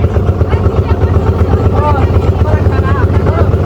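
An outboard motorboat on a wetland lake runs close by with a loud, steady rumbling engine throb, while voices talk faintly beneath the motor noise.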